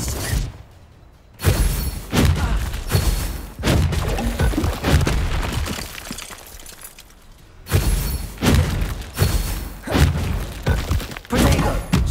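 A Bombarda spell explosion in Hogwarts Legacy, amid a duel with Stupefy and Protego casts, comes as heavy thuds and shattering crashes in loud bursts separated by short lulls.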